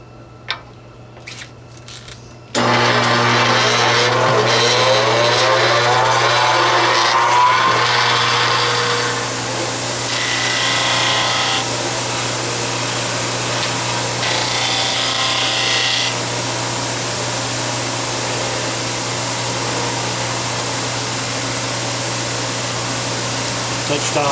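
A power tool trims the ends of a wooden pen blank down to its brass tube, a loud, steady whining grind that starts abruptly and runs throughout, with brief clicks just before it begins.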